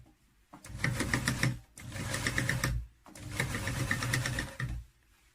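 A sewing machine stitches the brim onto an Ankara bonnet in three steady bursts of rapid mechanical whirring, each separated by a brief pause, close and fairly loud.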